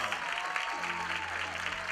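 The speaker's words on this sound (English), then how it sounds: "let's give them a one final applause" A crowd at a Harlingen High School homecoming football game gives the homecoming court a final round of applause, faint and distant clapping over a low hum with a steady tone underneath.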